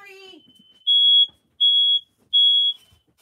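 A household smoke alarm set off during wood burning with torch paste sounds three loud, shrill, evenly spaced beeps close by, each about a third of a second long. A brief voice is heard just before the beeps.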